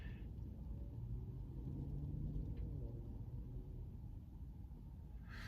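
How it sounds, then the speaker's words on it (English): Windstorm gusting outdoors, heard as a faint, continuous low rumble and roar from inside a car, with no talking. "Yeah, I'm getting a windstorm out here."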